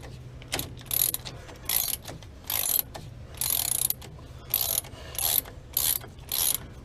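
A ratchet working on a stiff brake caliper bolt on a 1999 Damon Challenger RV: eight bursts of rapid clicking, each about half a second long, in a steady back-and-forth rhythm, close and clear.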